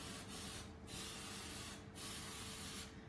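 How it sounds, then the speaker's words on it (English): Cake release spray misted into each cup of a baking pan, three long hissing bursts from an aerosol can with short pauses between, close and loud. "we're actually going to use our cake release. So we're just going to spray inside each one."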